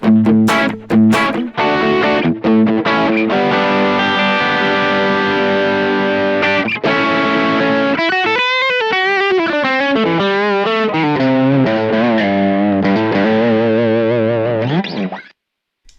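A distorted electric guitar on the bridge pickup, through a Kemper Profiler amp, plays loud chords and then bending, wavering lead notes, thick and saturated, before cutting off abruptly near the end.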